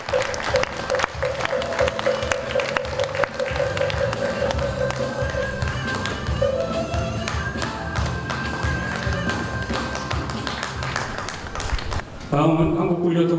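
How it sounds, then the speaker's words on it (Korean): Sustained audience applause fills a hall at a Korean Buddhist Taego Order ceremony installing a new head of administration, with dense clapping, scattered voices and a steady tone running beneath, ending abruptly as a new sound takes over. "큰 박수 부탁드립니다."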